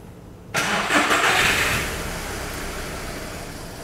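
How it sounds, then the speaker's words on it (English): A car engine cranks and catches after a short quiet pause, swelling briefly before settling into a steady, close idle during a pressure-diagnostics test. "John, if you can start the vehicle."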